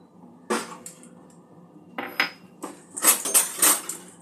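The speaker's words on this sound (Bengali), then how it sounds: "হালকা করে একটু নাড়াচাড়া করে নেব।" A spatula clanks and scrapes a metal pan of kantola curry cooking with mustard and five-spice over a medium flame. It comes in short, loud bursts of metallic stirring separated by pauses.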